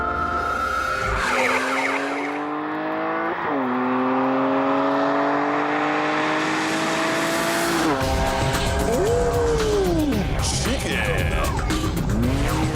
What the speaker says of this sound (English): It's called the Weismann MF3, and under the pretty skin you have the engine, sequential gearbox and running gear from a BMW M3.